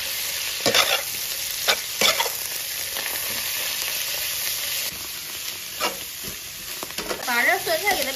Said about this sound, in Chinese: 把这酸菜给它煸炒出水分啊